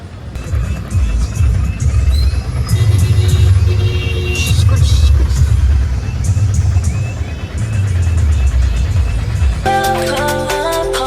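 An auto rickshaw ride through city traffic toward Balkampet: a steady, loud engine rumble and road noise run throughout, with a brighter burst of tones near the end and voices talking over it.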